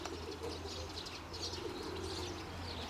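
A courting pigeon coos, low and soft in a steady murmur, with faint chirps over a constant low background hum.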